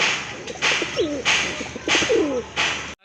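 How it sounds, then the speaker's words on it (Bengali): A pair of native round (deshi golla) pigeons for sale coo in low, throaty repeated phrases, close and clear, in several bursts over a steady background hiss. "কালারফুল কোয়ালিটিফুল কালার ম্যাচ করা এক জোড়া কবুতর আছে এখানে"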